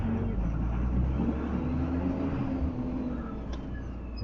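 Car driving on the road, captured from inside during a test drive with a Viofo A229 Pro 4K dash cam; a steady engine and road rumble continues throughout, close and even.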